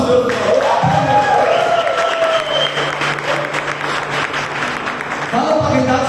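Congregation in a church applauding together, a dense steady clapping with crowd noise and some singing or speaking voices over it, full and close throughout.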